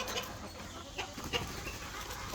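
Native country chickens on a farm cluck a few times in short, scattered calls, fairly distant, over a steady outdoor background hiss.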